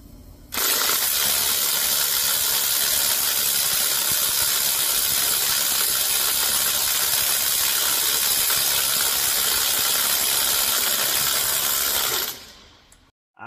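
A Ryobi half-inch cordless impact driver hammering at a car wheel nut, one loud continuous rattling burst lasting about twelve seconds before cutting off, close and alone without talk.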